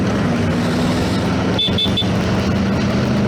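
Three short, bright motorcycle horn beeps in quick succession over steady road and engine rumble, tooting nearby.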